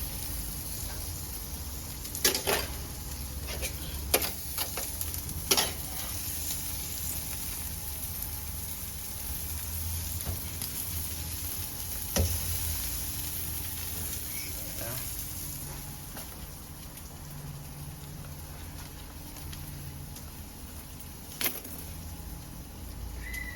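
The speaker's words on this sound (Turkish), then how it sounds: "Nar gibi yağda böbrek yanında kızartıp et ürünlerine basıp güzel bir etin suyunu alıyoruz" Steady crackling sizzle of meat frying in hot fat for çöp şiş kebab, constant and fairly quiet, with a few sharp pops and knocks.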